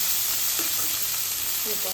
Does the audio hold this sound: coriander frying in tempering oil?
yes